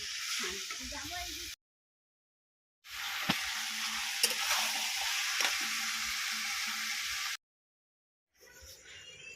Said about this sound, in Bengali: মটন কষা প্রায় শেষ হয়ে আসছে এরপর আরেকটু মটনটা কষবো